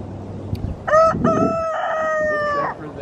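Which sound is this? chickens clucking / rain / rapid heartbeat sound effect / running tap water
chickens clucking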